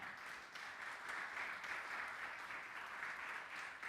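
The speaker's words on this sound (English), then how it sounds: "big round of applause, please, for all of them." Steady applause from a crowd fills the room, even and sustained, heard from a distance.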